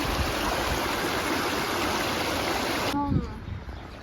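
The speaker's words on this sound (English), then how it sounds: "a little river." A small outdoor river rushes with a loud, steady broadband wash of flowing water, which cuts off abruptly near the end into quieter ambience with a brief soft voice.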